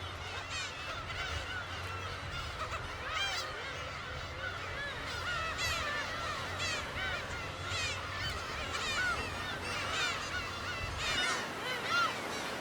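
Young seagull chick calling repeatedly in loud, harsh honking cries, near and persistent, with overlapping calls layered over a low background rumble.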